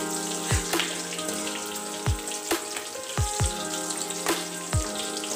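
Green chillies, garlic and mustard seeds frying in oil make a constant crackling sizzle, punctuated by several sharp pops and spatters at irregular intervals.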